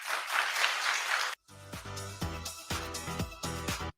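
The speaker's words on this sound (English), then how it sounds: "I clap if you understand what I'm saying." Hands clap rapidly and steadily for just over a second, close and fairly loud, then stop abruptly as tonal sounds take over.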